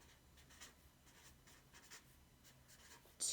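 Pen or marker writing numbers by hand during a fourth-grade math lesson, a faint, steady scratching with short strokes, close and quiet with no talk.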